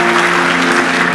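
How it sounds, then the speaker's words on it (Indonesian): A church congregation claps together in praise during a service, a dense, steady wash of applause with a constant hum running beneath it. "berikan tepuk tangan bagi Tuhan Yesus Kristus"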